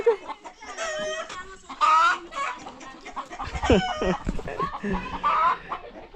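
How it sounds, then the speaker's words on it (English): Chicken clucking in a rural Kenyan home setting, with several close, varied clucks and short squawks repeating irregularly over a few seconds. "Because the chicken."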